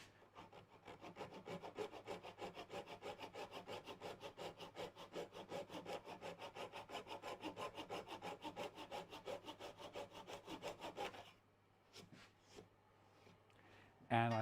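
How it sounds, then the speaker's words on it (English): A hand saw rips along the grain of a wooden board for a Lutyens bench seat, giving steady, fast, close-up rasping strokes for about eleven seconds before stopping, followed by a few faint knocks and handling sounds. "This is actually ripping because I'm going down the grain."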